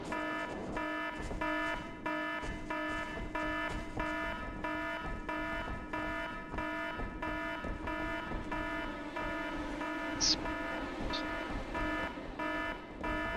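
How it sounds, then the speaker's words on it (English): Alarm in the video game SOCOM US Navy Seals II, ringing continuously as a steady, pulsing electronic tone with rhythmic repeats through the whole stretch, loud and unbroken over faint background game sound. "That alarm is going to drive me crazy, but there's not much we can do about it"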